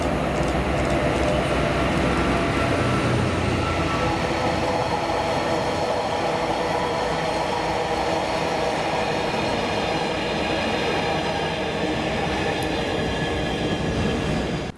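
Freight train of empty wagons hauled by locomotive 88006 rolls past steadily, a loud continuous rumble and wheel noise filling the whole stretch with no break.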